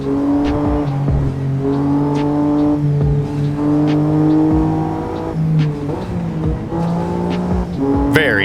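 BMW M3 F80 engine in a racing video game, driven through traffic: a close, sustained engine note climbs and drops through repeated gear shifts, with light tire noise. No talking.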